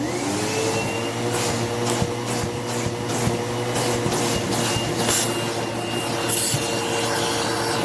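A Shark Navigator Freestyle SV1106 vacuum cleaner runs steadily and loudly up close, its motor droning with a constant whine and a rough sucking rush throughout, with no talking.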